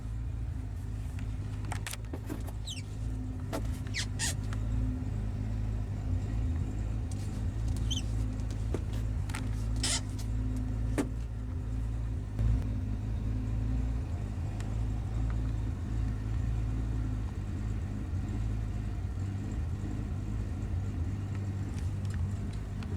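A 1965 Rambler American 330 idling a bit rough, a quiet steady low engine drone with slight unevenness, heard alone with a few faint clicks and rustles on top.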